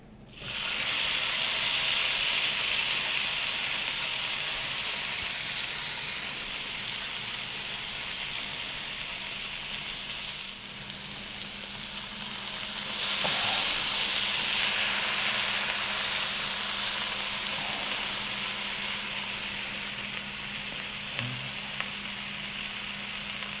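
Bacon-wrapped deer tenderloin hits a hot Big Green Egg grill for a quick sear, bursting into a loud, steady sizzle and hiss that holds for the whole stretch, swelling again midway with no talk over it.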